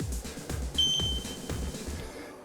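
A workout interval timer gives a short high electronic beep over a rhythmic, thumping background beat from a kids' exercise session, with no voices.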